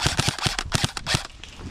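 Gunfire in a DEA-versus-cartel video game battle, a rapid burst of sharp shots fired in quick succession, close and punchy, then trailing off.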